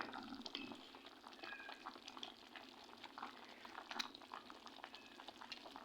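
Chicken puchero soup with cabbage, carrots and chickpeas simmers in a pot, a faint soft bubbling and gentle popping heard up close with nothing else over it.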